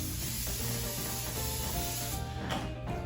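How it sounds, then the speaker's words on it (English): A close hissing burst of cooking spray onto a cooking rack rushes continuously for a few seconds before tapering off, with no voices. "let's just hit this rack with a quick dose of cooking spray"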